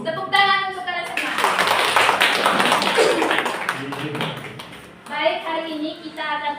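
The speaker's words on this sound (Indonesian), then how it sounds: "Tepuk tangan untuk kalian semua." Classroom of fifth-grade children clapping together for about four seconds, a dense, fairly close burst of claps, with children's voices before and after.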